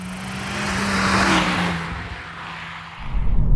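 A front-wheel-drive Honda Civic Type R accelerates hard, its engine note steady and strong while the car pulls forward, the sound swelling mid-way and ending in a burst of louder, rougher engine and road roar.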